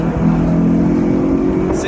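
Dodge Challenger with its muffler removed, the engine holding a loud, deep, rumbling drone close by. The low growl stays steady and unbroken over the short stretch.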